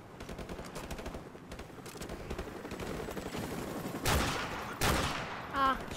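Rapid machine-gun fire in Call of Duty Modern Warfare Remastered, a continuous rattling fusillade followed by two louder close shots near the end, with no talk over it.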